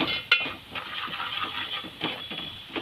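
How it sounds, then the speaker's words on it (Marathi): Spices and turmeric are stirred in hot oil in a pan for misal pav, with faint clinking of a utensil against the pan and a soft, steady background hiss, quiet and close. "आता हे सर्व मसाले तेलामध्ये परतून घ्यायचे."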